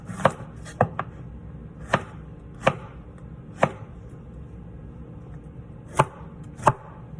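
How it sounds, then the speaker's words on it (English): A knife chops food into squares on a cutting board, with sharp, distinct thuds falling at an irregular pace, about ten cuts in all, close and clear with no talking. "cut it in squares like that"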